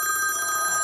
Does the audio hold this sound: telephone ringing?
yes